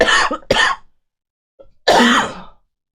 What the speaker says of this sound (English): I had to cough and was trying to swallow at the same time